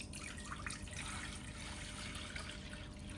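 About 1.5 liters of water poured into a pot for mango ice candy mixture with cornstarch, a steady faint splashing rush lasting the whole moment without pauses.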